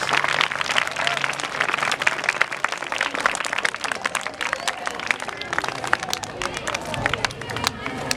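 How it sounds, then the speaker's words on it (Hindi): Children at a school Republic Day function clap hard to welcome the principal, a dense and sustained burst of applause from a crowd. Voices murmur underneath the clapping. "जोरदार तालियों से स्वागत करेंगे बच्चे।"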